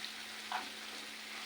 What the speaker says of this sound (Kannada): ನೋಡಿ, ಅದರ ಹಸಿ ವಾಸನೆ ಎಲ್ಲ ಹೋಗುವಷ್ಟು ನಾವು ಈ ಪೇಸ್ಟನ್ನು ಈ ಥರ ಫ್ರೈ ಮಾಡಿಕೊಂಡ್ರೆ ಸಾಕು.